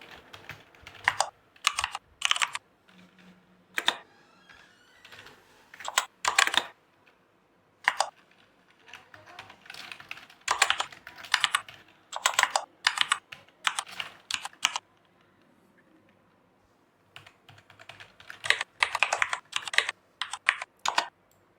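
Bursts of close computer-keyboard typing while filling in an Excel invoice sheet, quick clattering keystrokes in uneven clusters separated by short pauses, with no talk.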